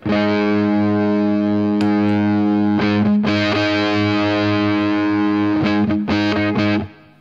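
Electric guitar through a high-gain distortion pedal, a thick sustained chord droning loudly, then a few choppy palm-muted stabs before cutting off.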